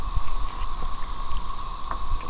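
A light wind of about 5 mph blows on a lake while canoeing, a steady low rumble of buffeting against the microphone with small fluctuations, close and continuous.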